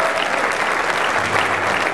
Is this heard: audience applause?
yes